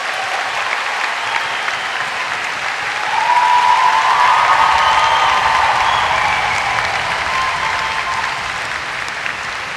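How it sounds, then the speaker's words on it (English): A large audience at a University of Dundee summer graduation ceremony bursts into sustained applause, a dense steady roar of clapping that swells midway and holds loud for the full stretch with no voices over it. "let's have another round of applause and make some big noise"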